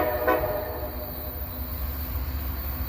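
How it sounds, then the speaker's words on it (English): A northbound train approaches with a brief horn blast near the start, then a steady rumble of rail traffic continues without talk. "here's our train coming at us"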